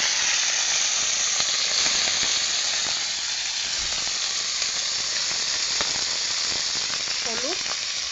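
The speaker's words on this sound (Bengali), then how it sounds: "তেল গরম হয়ে গেলে দিয়ে দিচ্ছি চিংড়ি মাছ," Prawns sizzle in hot oil in a kadai wok with a steady, loud, hissing fry that runs unbroken. Faint stirring clicks come through, and no one speaks.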